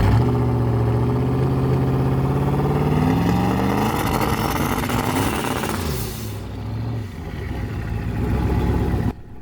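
Turbocharged LS V8 in a Fox-body Mustang held on a trans brake, loud and close with a slightly uneven idle hinting at a misfire, engine note rising then settling before cutting off near the end.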